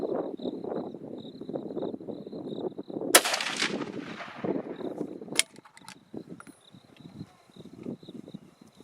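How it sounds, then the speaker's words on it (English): Two rifle shots fired with BP106 black powder at a target range in South Africa: a sharp crack with a long rolling decay, then a second crisp shot, while insects chirp faintly in the background. "Okay, the two shots went practically in"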